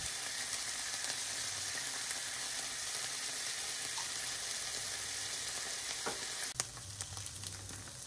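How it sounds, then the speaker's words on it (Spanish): Tofu frying in gimbap sauce in a pan gives a steady, soft sizzle throughout, with a brief clink of a utensil near the end and no talking. "Freír hasta que el tofu quede impregnado con la salsa."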